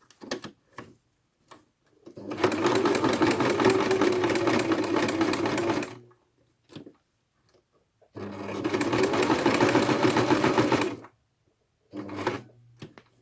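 A sewing machine stitching leftover lace and trims into small clusters runs in two long, steady bursts of rapid stitching, with brief pauses and short clicks and handling noises between runs, close and loud.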